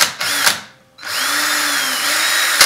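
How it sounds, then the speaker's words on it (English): An electric drill pre-drills a hole into a hard replacement peg during a Washburn mandolin repair, a loud close whine in two bursts separated by a brief pause, the pitch sagging slightly as the bit bites. "the peg is so hard that I'm going to actually have to pre-drill this"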